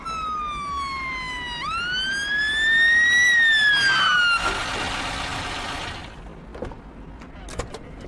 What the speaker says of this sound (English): Listen, the ambulance is here